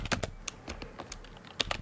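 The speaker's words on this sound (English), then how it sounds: "I'm typing to him in game" Keys clatter on a computer keyboard while a message is typed into an online game, a quick irregular run of close, crisp clicks with short pauses between bursts.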